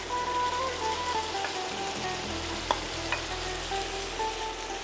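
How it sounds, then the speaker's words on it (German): Pumpkin pieces frying in a pot for an Indian pumpkin curry, giving a steady, close sizzle with light stirring scrapes and a couple of small clinks, without speech. "Und den braten wir jetzt auch schön an."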